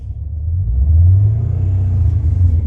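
A Pontiac GTO with a failing transmission revs in reverse, its engine giving a loud, close, low rumbling drone that builds and then holds for a few seconds. No talking is heard.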